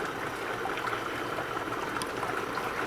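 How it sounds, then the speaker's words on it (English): A pool pump and saltwater filtration system keep water moving in a steady, continuous trickling rush, fairly close and even in level throughout, with no voices over it. "the pump and the saltwater filtration system is going. So that is all the water noises"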